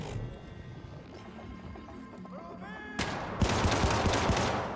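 Gunfire bursts in the 2012 video game Syndicate, loud rapid shots crowding the second half after a quieter stretch of low rumble and tonal game sounds.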